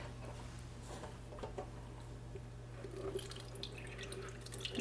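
Liquid is poured into a blender, a soft trickling and splashing with a few drips, faint and close, in a quiet home kitchen with no talking.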